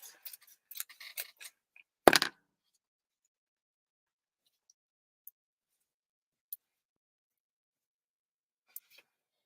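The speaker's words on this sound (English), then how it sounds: "I'll just cut them right in half." Scissors cut pieces in half with a short burst of close snips and one sharper cut near two seconds, then mostly quiet with a few faint isolated clicks.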